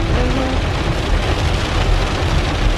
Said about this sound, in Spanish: Pero este es un aguacero.